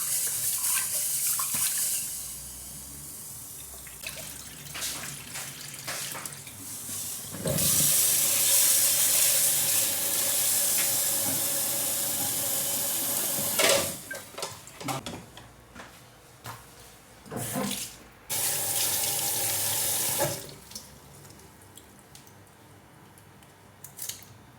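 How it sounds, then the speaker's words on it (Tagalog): Mung beans are washed under a running kitchen tap, giving a steady gushing stream that starts and stops several times, with splashing and clinking of the beans and bowl in between, close and moderately loud, with no talk. "iugasan natin ng maayos ang munggo at ilalaga natin hanggang sa ito ay lumambot"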